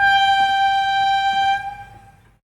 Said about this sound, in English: or train horn?